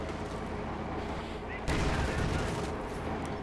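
Dense, continuous battlefield gunfire from the Company of Heroes 2 strategy game, a loud wash of rifle and machine-gun fire that swells louder partway through.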